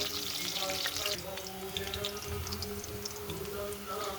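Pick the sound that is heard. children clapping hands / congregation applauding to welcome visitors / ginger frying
ginger frying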